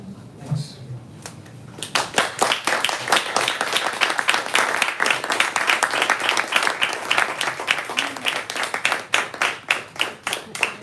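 Near-silence, then a crowd at a live literary reading breaks into applause for two writers, building quickly into dense, even clapping with individual sharp claps standing out, sustained loudly to the end.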